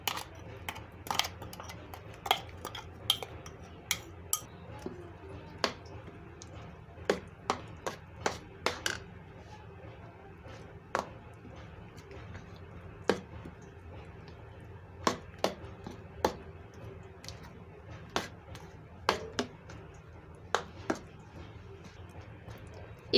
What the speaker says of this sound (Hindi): अब इस पेस्ट को हम दाल वाले पेस्ट में मिक्स कर देंगे।